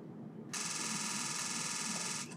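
A Nikon Z8/Z9 camera's rapid shutter sound in burst mode, Type C at 20 frames per second, fires for about two seconds, blurring into a steady, buzzy rattle over faint background hiss.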